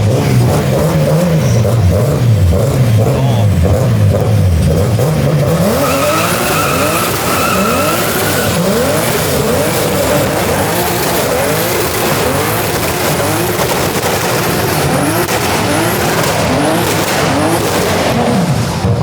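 A 1000-plus horsepower BMW E30 race car engine roars loudly and continuously, pitch climbing and dropping as it shifts up through gears, with tire squeal mixed in.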